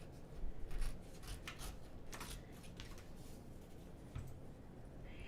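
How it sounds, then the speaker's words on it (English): Scissors snip through a cardstock pattern piece in a sequence of soft, close crisp cuts, with quiet paper rustling between them and no talk. "you can go ahead and start cutting out your pattern piece"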